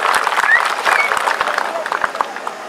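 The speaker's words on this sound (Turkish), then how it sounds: "Bir alkış rica edebilir miyim ilçe tarım müdürlüğümüze?" Applause from the crowd at a fig festival in Dalaman, rising and fading over a few seconds amid a general murmur, with a voice briefly heard.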